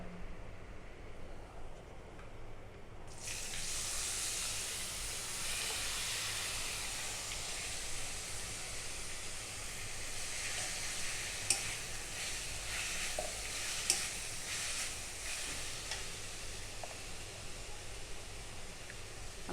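Chopped potatoes dropped into hot oil, a sudden loud sizzle that starts after a quieter pan hiss and then holds as a steady, crackling fry with occasional sharp pops and stirring.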